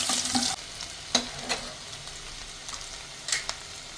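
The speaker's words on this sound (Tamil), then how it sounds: "வெங்காயம் பொடிசாக அரிஞ்சு வச்சுருக்கிறேன், அது நம்ம தாளிக்கிறது போட்டுக்கலாம்" Chopped onions frying brown in hot oil for channa masala, a steady crackling sizzle with occasional scraping stirs and clinks of a spoon against the pan.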